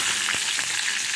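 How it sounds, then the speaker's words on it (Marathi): Green chilies frying in hot oil, a dense, close, even sizzle with a faint stirring touch, brief and loud, no voices. "तेल आपलं छान गरम झालं की त्याच्यामध्ये आपण ही मिरची छान भाजून घेऊया."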